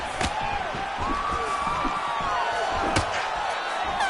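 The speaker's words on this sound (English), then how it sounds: "and then slammed back down to the mat." In the EA Sports UFC 5 video game, a fighter is slammed down onto the mat, with sharp thuds under steady arena crowd noise, cheering and whistling throughout.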